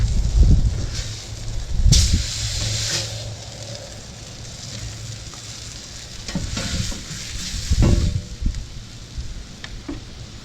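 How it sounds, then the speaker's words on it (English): Salmon and asparagus sizzle on a Hunsaker griddle in a continuous frying hiss, broken by several louder scraping, clanking bursts from a spatula moving the food around. "Salmon and asparagus on the Hunsaker."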